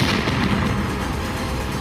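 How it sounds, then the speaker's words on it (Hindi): Car blast at a red light beside the Red Fort on Netaji Subhash Marg, heard as a dense, loud rumbling explosion that stays heavy and sustained for nearly two seconds. "उसमें तेज धमाका होता है।"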